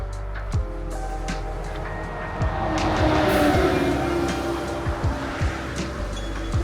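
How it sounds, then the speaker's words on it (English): Busy roadside traffic beside Loch Ness in Scotland, with a steady low engine rumble and several vehicles passing close by, their tyres hissing on the road as they swell and fade. "A lot of traffic."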